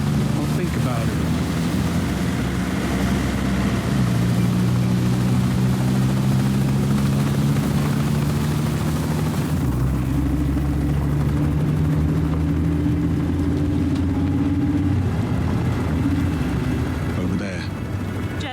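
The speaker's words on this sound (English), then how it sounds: "Earthma's heli is inbound." A helicopter closes in within the 007 First Light video game, its rotor a loud, steady low drone with a throbbing hum that holds for the whole stretch.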